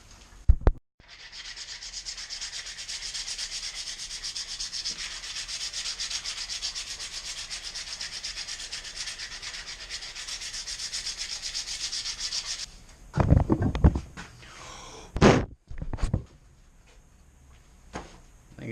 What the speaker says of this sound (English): so I'm going to do some hand sanding